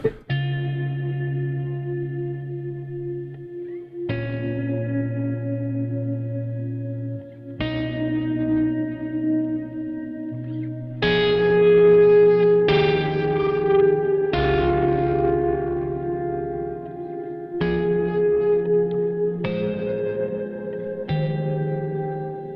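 Sustained electric guitar chords played through a cloud reverb pedal ring out one after another, each swelling into a long, lush wash of reverb that lingers and overlaps, with no talking.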